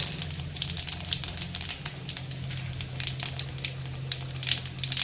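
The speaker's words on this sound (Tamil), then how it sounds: "எண்ணெய் காஞ்சிருச்சு கடுகு போட்டுக்கலாம் ஜீரகம் கொஞ்சம்" Mustard seeds and cumin crackle and sputter in hot oil in a pan, the first step of tempering for a sambar. Dense, continuous sizzling pops sound close up over a low steady hum, with no talking.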